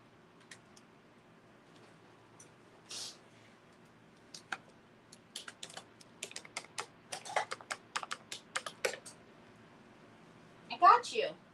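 Rapid, uneven bursts of key clicks on a computer keyboard, typed one-fingered, in a quiet room, with a short bit of nearby talk before and a louder burst of talk at the end.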